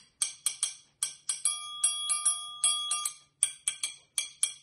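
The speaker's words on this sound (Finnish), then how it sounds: "Triangelia pystyy soittamaan ihan ilman naruakin, niin että se on tässä etusormen päällä." A metal triangle struck repeatedly in quick irregular hits, bright ringing tones, some strokes left to sustain and others damped short, sounding close and clear.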